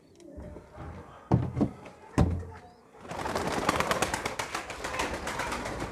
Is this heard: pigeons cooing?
yes